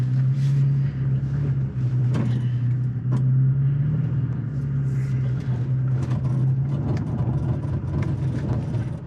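A 2022 Toyota Tacoma TRD Pro crawls a hard off-road trail in four-wheel-drive high, its engine a steady low drone with a few brief revs and knocks from the chassis, loud and continuous throughout, no talking.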